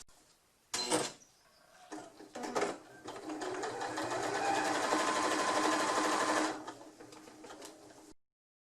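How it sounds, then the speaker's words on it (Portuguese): A sewing machine topstitching a small fabric bag, a few short starts and stops followed by a long, steady mechanical whir of stitching at close range, ending abruptly. "E vamos fazer um pesponto para realçar o nosso trabalho."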